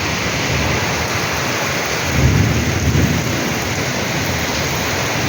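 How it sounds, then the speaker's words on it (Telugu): Heavy rain pours down steadily in a thunderstorm, a dense close roar with a deep thunder rumble swelling briefly near the middle, no voices. "అంత గట్టిగా వస్తుంది వర్షం."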